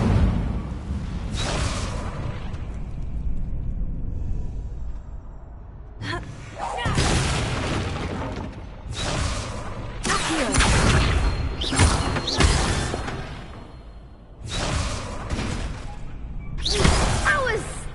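Incendio fire spells cast in Hogwarts Legacy, heard as repeated whooshing, booming bursts arriving in separate clusters over about eighteen seconds, loud and near, with a voice speaking between them.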